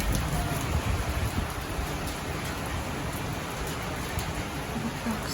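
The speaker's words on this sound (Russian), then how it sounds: "Вот так все заливает." Heavy rain pours down during a spring thunderstorm in Rostov-on-Don, a dense, steady hiss of drops drumming on surfaces, loud and continuous with no voices.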